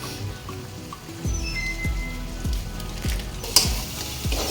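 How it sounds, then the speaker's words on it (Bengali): Mutton curry with Kashmiri chili powder sizzles loudly in a pan while it is sautéed, with a regular scraping stir stroke about every half second over the constant frying hiss. "ভালোভাবে আমি কষিয়ে নিচ্ছি"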